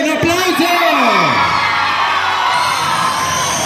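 Audience applauding and cheering loudly and continuously, with whoops and shouts over dense clapping close by and no one speaking clearly.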